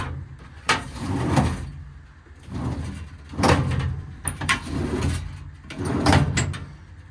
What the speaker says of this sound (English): that bottom drawer gets caught on the weather stripping.